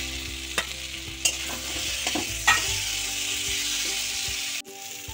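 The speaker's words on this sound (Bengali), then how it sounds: "মশলাটা কষা হয়ে গেছে, আমি এই আলুগুলো দিয়ে দিচ্ছি" Potatoes tipped into spiced masala frying in a pan with ground coriander, cumin, turmeric and chilli, a steady sizzle with a few sharp clinks and scrapes of stirring, ending in a sudden cut.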